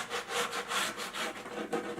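Rhythmic back-and-forth rasping of 400-grit sandpaper on wood, steady strokes repeating about every quarter second, close and moderately loud with no talking.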